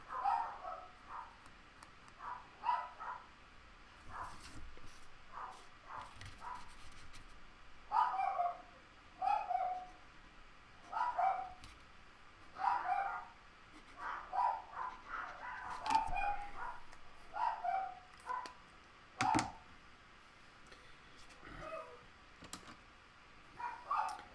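Dogs bark at someone at the door of a home: repeated short, high barks and yips in uneven bursts over about twenty seconds, moderately loud and slightly distant, with no talking.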